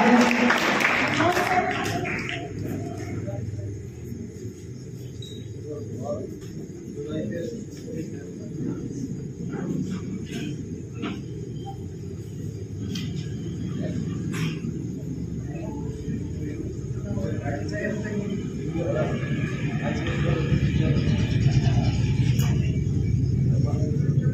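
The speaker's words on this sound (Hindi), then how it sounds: "ये तालियां की आवाज आती है इनके बीच में से" A crowd at a school CBSE result ceremony claps in a long, continuous, rumbling wash that swells toward the end, with speech and room noise mixed in.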